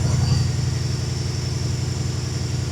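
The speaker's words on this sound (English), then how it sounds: "You guys can hear it. The car has a little whistle to it" A supercharged Coyote V8 engine swap idles steadily in a car, with a thin, high supercharger whistle running continuously above the low rumble.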